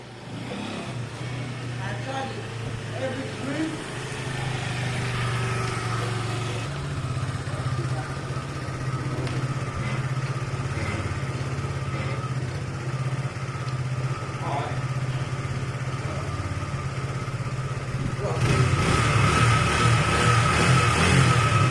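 Zontes Tiger 125cc motorcycle engine running smoothly at a steady idle, moderately close, with a brief rise in revs near the end.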